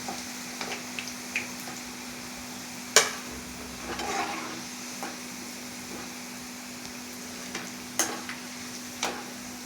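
Okra fries in oil in a pan with a soft, steady sizzle, broken by occasional light clicks and taps, all quiet and close over a faint constant hum.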